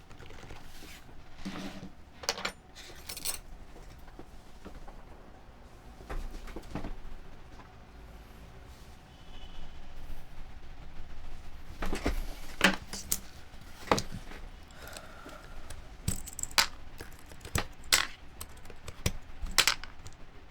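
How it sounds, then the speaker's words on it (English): Keycaps being pulled off a mechanical keyboard with Realforce-style housings, giving scattered sharp plastic clicks and snaps in irregular bursts, close and fairly loud over faint background noise. "I got to pull off the keycaps first."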